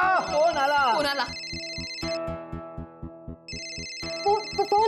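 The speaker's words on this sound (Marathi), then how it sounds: "अहो फोन उचला, फोन आलाय तुमचा." A telephone rings in a domestic TV-serial scene, its electronic ringtone repeating in regular bursts with a steady pulsing rhythm, while voices talk loudly over and between the rings.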